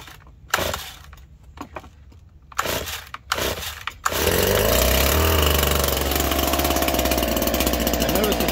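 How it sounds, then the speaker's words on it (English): A fully choked STIHL HS82R hedge trimmer engine is pulled several times with short rattling cranks, then catches and runs loud and steady at a high idle, close by. "We got it fully choked right now, and you'll listen for it to try and fire off."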